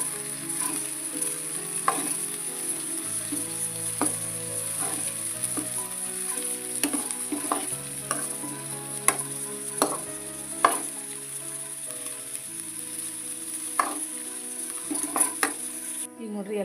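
Sprouted horse gram sizzles in a hot pan while a spoon stirs it, with a steady frying hiss broken by frequent scraping and clinking taps of utensil on metal.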